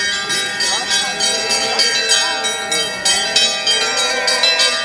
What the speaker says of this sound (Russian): колокольный звон раздается на всю округу.